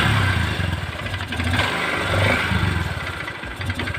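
A Honda XR150L motorcycle engine runs at a steady idle close by, its low, even chugging beat continuing throughout with slight fluctuations in loudness and no talking.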